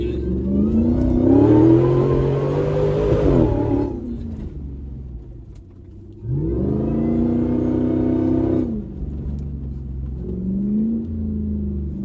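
Loud, close Jeep engine revving while off-roading, two long surging pulls that climb and fall with a quieter idle between them and a third rise toward the end, with no talk.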